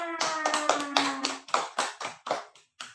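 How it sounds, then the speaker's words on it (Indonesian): Pupils in a classroom clap together in a quick run of about ten sharp, separate claps with short gaps, fairly close and loud, after a brief tonal sound at the start. "tepuk tangan untuk semuanya"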